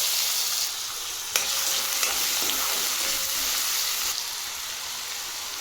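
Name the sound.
green chili and potato frying in oil in a wok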